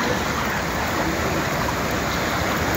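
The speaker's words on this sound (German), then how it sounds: "der Bach mutiert zum kleinen Fluss" A mountain stream, swelling into a small river, rushes through a canyon in a steady, dense broadband roar, close and continuous with no voices.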